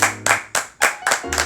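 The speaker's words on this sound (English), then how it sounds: "round of applause once again." A few distinct, sharp hand claps in quick succession, close and loud, forming a short burst of applause during a podcast episode.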